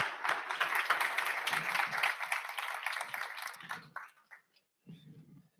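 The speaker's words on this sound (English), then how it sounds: "let's give applause to Dennis" Audience applause for a speaker at a talk, a dense wash of clapping that holds steady for several seconds and then fades out into a few scattered claps and a brief murmur.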